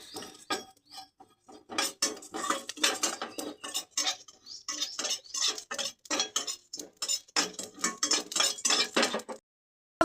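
Whole spices are tossed in a wok, with repeated clinking and scraping of a metal spoon against the pan. The strokes come in busy, uneven bursts, close by and fairly loud, and they stop abruptly just before the end.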